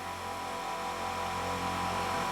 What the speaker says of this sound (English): Sorry about the noise, I just turned the compressor